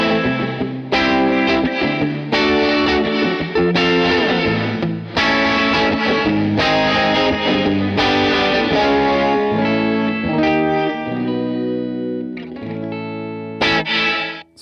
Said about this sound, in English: You can get these really cool like pulses and rhythmic stuff in the background of your riffs